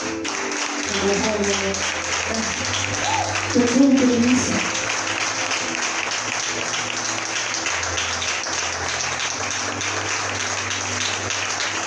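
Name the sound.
conference audience applause and cheers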